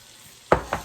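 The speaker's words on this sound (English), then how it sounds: "We're gonna cook these until tomatoes are softened, 2 to 3 minutes." Tomatoes cooking in a pan for a Tuscan pork meatball and creamy linguine meal, with two short, close scraping stir strokes over a faint, quiet sizzle.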